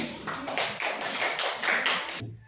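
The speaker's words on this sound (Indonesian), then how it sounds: "Tepuk tangan dulu yang lain." Classmates clap for a group in a classroom: a short run of distinct, fairly close handclaps in an uneven rhythm, roughly a dozen claps, stopping abruptly.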